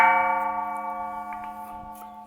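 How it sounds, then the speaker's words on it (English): Bell at a hidden Thai temple struck by hand, giving one clear, bright ringing tone that hums on and slowly fades, heard close and alone. "Okay, so let's ring a bell."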